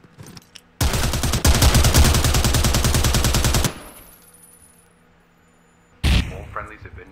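Automatic gunfire in the shooter game Zero Hour: one long rapid burst of spray lasting about three seconds, loud and close, then a pause and a shorter burst near the end.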